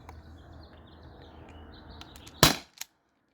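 A modified T4E HDP50 CO2 pistol fires nylon balls: one sharp, loud pop followed by a faint click, set against quiet outdoor background with birds chirping softly.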